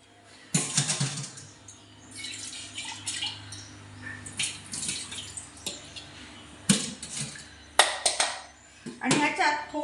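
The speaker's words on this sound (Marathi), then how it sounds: "ही आता मी दुसऱ्या भांड्यात काढते." Soaked tea powder being scooped and tipped from one kitchen pot into another, with a series of wet scraping, clinking and dripping bursts at irregular intervals, close and moderately loud, with someone talking between them.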